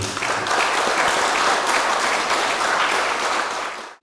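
An audience applauds loudly and steadily to open a memorial ceremony marking the 80th anniversary of the Bumingwan bombing, the clapping holding full for about four seconds before cutting off abruptly.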